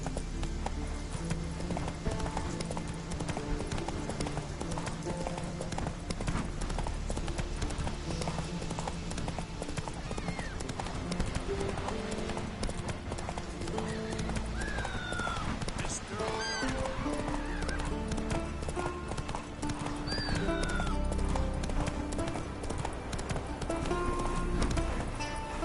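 Roach the horse gallops in a video game, hooves clip-clopping in a fast steady rhythm at close range over ambient game sounds, with occasional snorts and speech from in-game voices.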